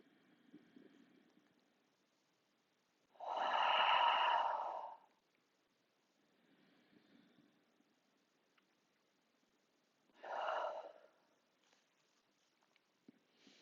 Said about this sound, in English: for 3 breaths, inhale through your nose and exhale